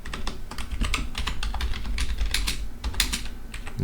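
Quick, continuous typing of C code on a computer keyboard, close and clear, with a fast irregular rhythm of key clicks and no talk.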